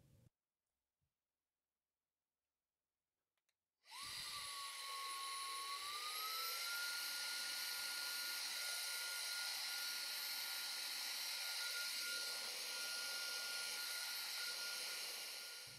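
An ATVEL F35 cordless stick vacuum in eco mode switches on after near silence and spins up into a loud, steady, high-pitched motor whine that holds evenly, close by and alone.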